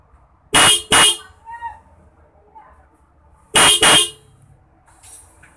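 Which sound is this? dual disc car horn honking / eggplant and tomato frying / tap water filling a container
dual disc car horn honking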